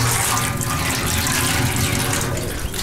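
Water pours steadily into a backyard water trough, a continuous close rushing hiss with no letup and no voices.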